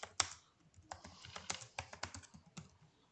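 Keys on a computer keyboard clatter in quick irregular bursts as a process name is typed into Blue Prism software, close and fairly quiet with no talking.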